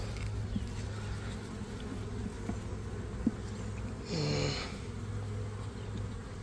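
Bees buzz around an opened hive split, a steady insect hum with one louder buzz passing close for about half a second midway.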